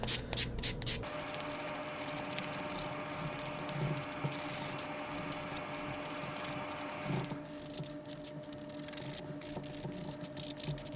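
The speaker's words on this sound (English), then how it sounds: "We'll see once I start buffing what happens." A nail buffer rubs back and forth across fingernails in soft, close scratchy strokes. The rubbing is steady and quiet, with a few brief pauses.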